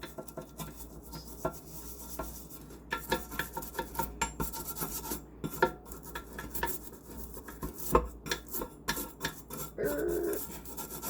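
A stove top burner grate is scrubbed with Spirinet cleaning paste. Faint, close scratchy rubbing and rasping strokes repeat steadily, with occasional light metallic knocks.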